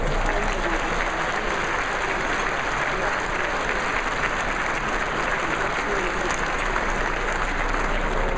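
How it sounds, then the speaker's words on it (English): Warm applause from the crowd at a Tucson mayor and council inauguration welcomes the Ward 1 councilperson, loud continuous clapping with some crowd noise, steady for the whole stretch. "give a warm round of applause for your Ward 1 councilperson"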